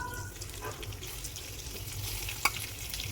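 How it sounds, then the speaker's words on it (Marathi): Stuffed eggplants go one by one into hot oil already spiced with cumin, mustard seeds and asafoetida, giving a steady close sizzle with a few light clicks and one sharper knock, and no voices. "तर हिंग मी तेलातच घातला आणि आता यामध्ये एक एक करून वांगी घालायची."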